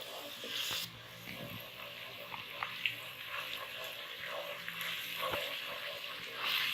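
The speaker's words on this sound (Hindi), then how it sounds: "थोड़ा सा हमने ऑयल में इसको प्याज को भूनना है।" Chopped onions frying in hot oil in a pan, a steady soft sizzle and crackle with a few sharper pops, close and continuous with no talking.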